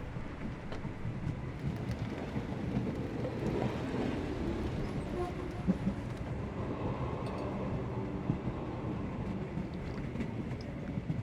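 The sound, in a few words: train travelling, from video game Sherlock Holmes The Awakened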